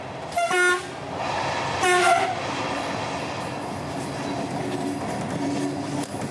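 Two short blasts of a train horn on an X2800 railcar sound over the steady rumble of the moving train, followed by continuous rolling track noise.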